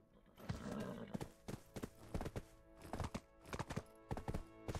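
A horse in the video game Black Desert galloping with rapid rhythmic hoofbeats, loud and close, in uneven bursts over a hollow background rumble.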